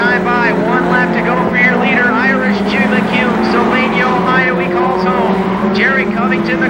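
Midget race cars scream around Columbus Motor Speedway in a 1996 NAMARS race, engine whines rising and falling as cars pass close by, under steady race-announcer commentary.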